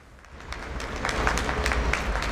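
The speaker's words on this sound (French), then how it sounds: "Les gens sortent sur leur balcon pour applaudir le personnel infirmier, le personnel médical" Crowd applause drifting from apartment balconies across a Rome street in support of medical and nursing staff, a diffuse, steady clatter of many hands heard from a distance, swelling slightly over a couple of seconds.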